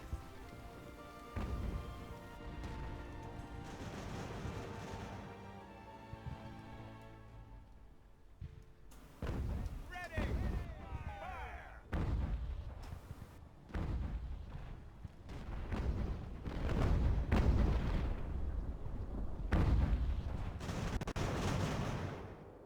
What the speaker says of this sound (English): The key is if I can get the mortar in the right spot.